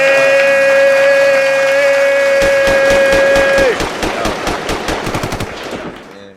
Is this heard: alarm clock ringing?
no